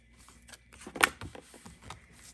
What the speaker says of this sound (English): So we're going to get a little bit more with the shuffle